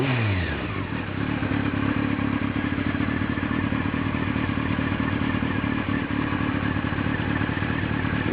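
A Honda motorcycle engine cranks and catches at the start, then settles into a loud, steady idle with a rapid mechanical clatter, close by and with no voices.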